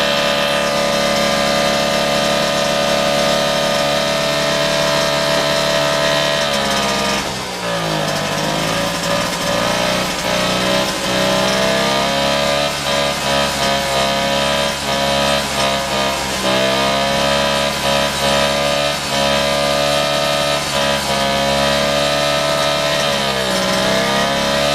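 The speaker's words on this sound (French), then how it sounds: "Je vais mettre celui-là en route maintenant" A small motor being restored runs continuously after starting, a loud steady buzzing drone with a rich harmonic whine that dips briefly in pitch once and then holds even.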